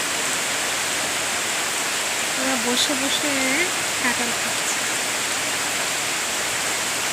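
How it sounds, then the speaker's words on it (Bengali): Heavy rain pours outside a window beside a railway line, a steady, dense hiss that fills the whole clip, while someone talks over it for a few seconds. "তো প্রচুর বৃষ্টি হচ্ছে।"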